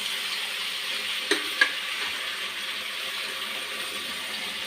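Masala with ground peanuts sizzles steadily in a hot pan while a utensil gives a couple of quick scraping stirs partway through.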